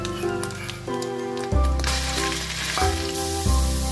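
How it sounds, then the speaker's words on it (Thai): Minced pork stir-frying in hot oil with fried garlic gives a steady, close sizzle, with scraping stirs and a bright, sustained tonal layer running underneath. "ใส่กระเทียมลงไปเจียวนะครับ ใส่หมูสับลงไปครับหมูสับ"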